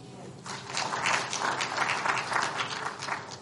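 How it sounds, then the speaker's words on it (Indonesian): A church congregation at an Indonesian Sunday service bursts into steady, sustained applause that swells and holds for several seconds, heard from across the room with a faint murmur mixed in. "Beri tepuk tangan buat Tuhan, saudara."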